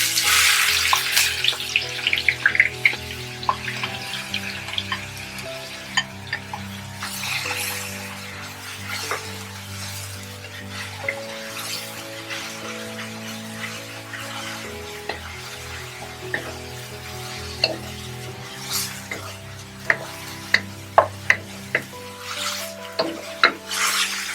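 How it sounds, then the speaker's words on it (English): Chopped onion going into a pan for butter paneer, frying with a soft continuous sizzle and rubbing, scraping stir noises, plus a few sharper clicks near the end, heard close and without speech. "We're going to add the chopped onion."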